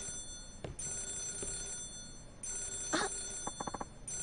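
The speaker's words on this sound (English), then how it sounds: "Could you get the phone?" Telephone ringing in the video game Yakuza 0, heard as a few short bursts of bell-like rings spread over several seconds, with a quick rapid cluster near the end, over a quiet background.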